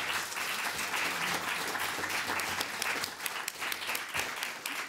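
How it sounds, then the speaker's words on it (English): An audience at a panel event on finances and relationships gives the panellists a big round of applause, dense sustained clapping throughout, fairly loud with no voices over it. "can we give our panellists a very big round of applause for this?"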